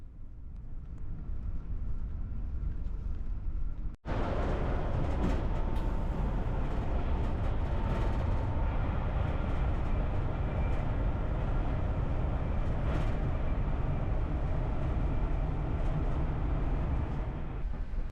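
A Swedish Railways passenger train runs at speed, heard from inside as a steady, loud broadband rumble with rail noise and a brief dropout early on. Nobody talks.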